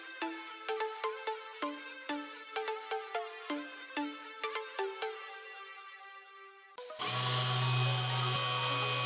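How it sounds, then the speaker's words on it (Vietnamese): A mini wood lathe driven by a 775 motor switches on near the end and settles into a loud, steady high whine while turning a piece of wood, following a passage of plucked musical notes. "những đường tiện đầu tiên, các bạn cho dao ăn ít vào miếng gỗ và di chuyển dao từ từ như mình"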